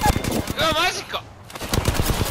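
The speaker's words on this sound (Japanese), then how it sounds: "撃たれてる。" Automatic gunfire in Apex Legends hits the player in rapid, loud bursts at close range, broken by a brief whistling in-game effect before the shooting resumes.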